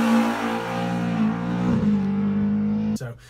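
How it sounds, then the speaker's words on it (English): A Sunbeam Lotus restomod's engine holds a steady, droning rev for about three seconds, close and fairly loud, then drops away abruptly. "once the tires slip and this engine starts to rev, it's just like being back on a rally stage"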